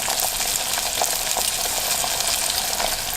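Chicken skin frying in hot oil in a small pot, a dense, continuous crackling sizzle with bubbling pops, close and fairly loud throughout.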